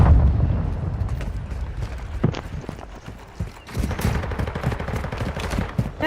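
Large-caliber sniper rifle shots ring out in a battle royale shooter match, several sharp reports scattered among dense gunfire and game noise.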